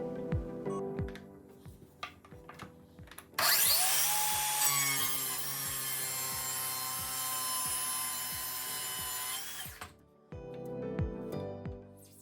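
A track saw cuts plywood along its guide track: a loud, steady motor whine holds for about six seconds, framed by quieter clicks and knocks of handling before and after.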